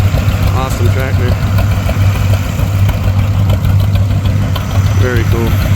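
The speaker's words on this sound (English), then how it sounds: "Awesome tractor." A tractor at a plow day event on a farm in Hobbsville, North Carolina idles steadily close by, a loud low rumble throughout, while people talk over it.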